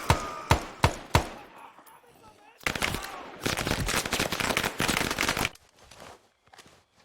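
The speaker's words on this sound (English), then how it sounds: "Sounds like a guy with a PPSH in the bushes here." PPSh submachine gun fire in a video game: three sharp separate shots, then a long, dense rattling burst lasting several seconds, followed by quieter scattered rattles.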